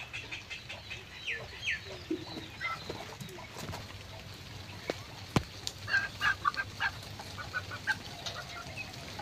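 Newly bought chickens from a large village market in the Sundarbans clucking in short bursts at close range, with scattered calls and rustling over steady background noise.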